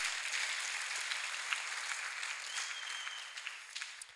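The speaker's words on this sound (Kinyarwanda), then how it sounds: "Komera Imana yawe amashyi mu izina rya Yesu" A church congregation claps together in a sustained burst of applause, dense and even for a few seconds before tapering slightly near the end, with no voices over it.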